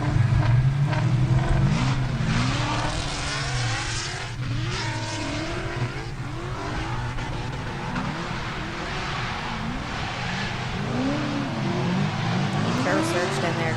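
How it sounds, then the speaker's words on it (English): Ford Mustang and Nissan S14 drift cars race at a drift series event, engines wailing and rising and falling in pitch with tire squeal, while a commentator talks over the loud, continuous car noise. "Trevor's Mustang shortly behind the S14"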